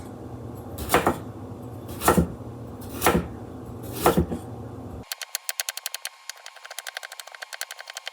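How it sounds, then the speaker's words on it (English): Carrots being julienned with a knife: four sharp, evenly spaced strokes about a second apart, then a quicker run of light, rapid cuts. "I'm gonna julienne these carrots"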